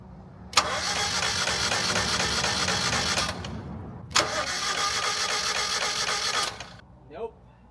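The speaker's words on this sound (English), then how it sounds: "now is the moment of truth." An abandoned Mazda NA Miata on a jumper cable cranks over in two long, whirring bursts without catching, close and loud, with a short quiet gap between the attempts and a voice briefly at the end.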